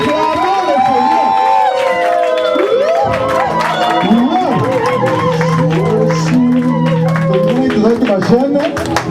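A church congregation erupts in loud cheering and acclaim, voices shouting and ululating together with scattered clapping, a lively, continuous crowd roar close by that lasts throughout.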